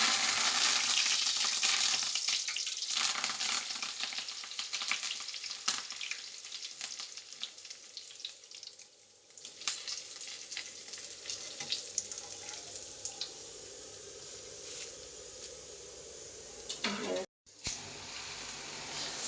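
Flattened rice (atukulu) frying and puffing up in hot oil for a snack mixture, a continuous close hiss and sizzle that softens partway through, with a brief clatter near the end.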